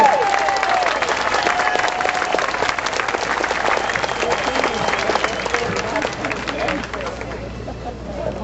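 A crowd at a Tea Party rally applauds and cheers in a loud, dense wash of clapping and hubbub that holds steady, then eases slightly near the end.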